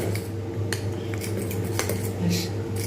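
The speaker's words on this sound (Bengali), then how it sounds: "ভালো করে করে কিন্তু আমাকে ফেটিয়ে নিতে হবে" Ground pea lentil batter being beaten by hand in a bowl, a quick run of wet slaps and clinks of a utensil against the dish, close and continuous over a low background hum.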